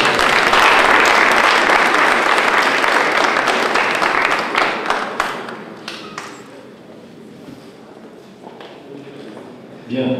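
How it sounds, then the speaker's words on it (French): An audience at a formal JCI student chapter opening ceremony in Senegal claps loudly and densely, then the applause thins into scattered claps and fades, with voices faintly beneath. "Et l'applaudissement."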